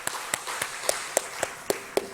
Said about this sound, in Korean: 우리 다음 세대 자녀들 축복하는 마음으로 함께 박수 쳤으면 좋겠습니다